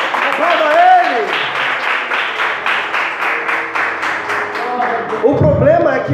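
A church congregation claps in praise, rhythmic and fairly loud, with music and voices underneath, the clapping fading as speech returns near the end.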